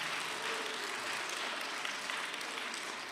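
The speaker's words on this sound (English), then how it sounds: "Yes, give them a round of applause." Chapel audience at a school assembly applauding, a steady, hissing roll of many hands clapping at moderate distance, even and sustained with no speech over it.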